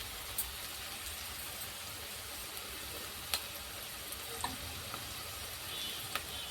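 Tomato paste hits a hot pan of frying fish curry base, producing a steady, soft sizzle with occasional faint clicks and spatters.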